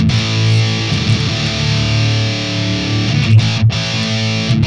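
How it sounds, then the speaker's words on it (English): An electric guitar through a BOSS DS-1 distortion pedal into a BOSS Katana amp rings out in thick, sustained distorted chords, loud and steady, with a few quick changes near the end. "Let's just go for some distortion."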